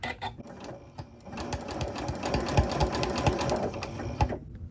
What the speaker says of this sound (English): Clipping the collar to the neckline and stitching.